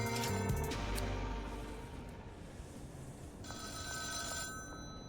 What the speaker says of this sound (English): Payphone immediately behind me.